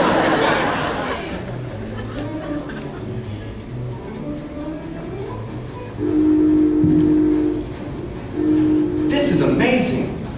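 Train sound effect in a live Harry Potter puppet show performance at a convention, a steady rumble with horn-like tones around the middle and end, heard under audience chatter and talk.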